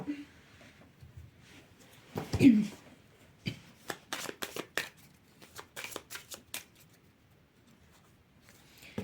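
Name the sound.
shuffling cards for a card reading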